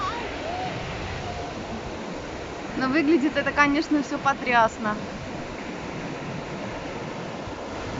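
Sea waves wash onto a sandy beach at Kadınlar Denizi in Kuşadası, a broad, steady hiss of surf continuing throughout, with a person briefly talking over it midway.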